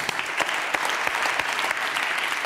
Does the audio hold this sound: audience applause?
yes